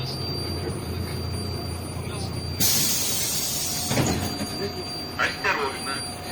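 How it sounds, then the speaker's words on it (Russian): The doors of a MAZ 105.065 city bus close with a sudden pneumatic hiss, followed by a thud and a few rattles over the steady hum of the bus interior. "Осторожно, двери зачиняются."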